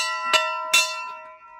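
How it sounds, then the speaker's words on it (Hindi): A temple bell rings twice in quick succession, each bright metallic strike followed by a long shimmering ring that fades, close and loud with no voices. "घंटी तो बजाएंगे"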